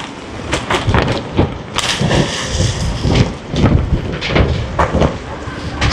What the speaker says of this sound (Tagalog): talagang ang lakas ng hangin